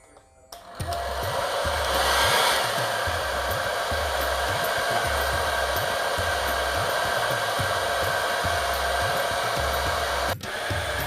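A hair dryer runs on low speed, a close, steady, loud blowing whir with a pulsing low-end rhythm, sounding alone for about ten seconds before a brief click near the end.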